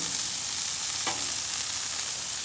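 Onions sizzling on a smashburger atop a Blackstone griddle, a steady broadband hiss of frying with one brief scrape or clatter near the middle, close and alone.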